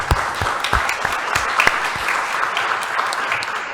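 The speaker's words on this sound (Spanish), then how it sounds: "Vamos a recibirlo a ambos con un fuerte aplauso." An audience at a law conference applauds to welcome the speakers, a steady patter of many hands with a few louder nearby claps, moderately close and continuous.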